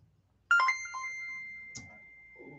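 A single bright bell strike rings out close by to open a records auction, its clear tone sustaining and slowly fading, followed by a faint softer clink.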